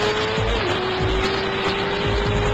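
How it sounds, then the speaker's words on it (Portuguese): A car accelerates hard on a highway, a loud, continuous engine note rising slightly in pitch over steady road and wind roar, with no talk. "Agora vamos observar este boyzinho acelerando sua nave na rodovia."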